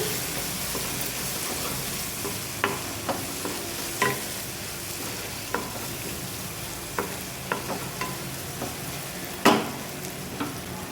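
Potatoes with chili powder and turmeric are stirred with a spoon in a frying pan for potato kurma, a constant sizzle and hiss broken by scattered clinks and scrapes, one louder knock near the end.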